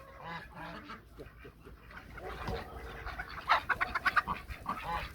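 Chickens fighting in a farmyard coop, with loud clucking and squawking bursts and a rapid flurry of sharp calls, close to the listener, with no speech.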